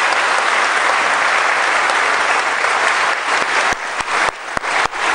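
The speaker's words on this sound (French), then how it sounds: "Je voudrais demander qu'on l'applaudisse encore une fois." An audience at a Côte d'Ivoire official ceremony breaks into loud, sustained applause that holds steady, then thins into scattered individual claps before ending abruptly.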